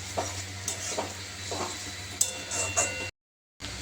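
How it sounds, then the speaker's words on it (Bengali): Ginger garlic paste fries in a pan for a chicken keema paratha filling, a close hissing sizzle broken by light stirring scrapes and ticks before the sound cuts out abruptly. "এবার এতে আমি আদা রসুনের পেস্ট দিয়ে দিলাম। এবার এটাকে যতক্ষণ না কাঁচা গন্ধ যাচ্ছে ততক্ষণ ভেজে নিচ্ছি।"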